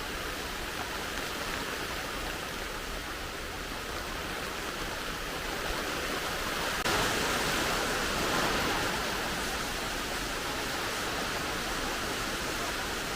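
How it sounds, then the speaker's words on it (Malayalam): Heavy rain at a house in Mundakkayam, a dense, steady wash of rainfall with a broad hiss, holding at the same level throughout and growing slightly heavier partway through, with no voices. "ഒരു മഴയുണ്ട് ഇതാണ് നനഞ്ഞ് കുളിച്ച് കയറുക എന്നുള്ളതാണ്"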